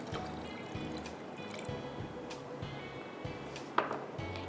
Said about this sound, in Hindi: अब इसमें हम डालेंगे पानी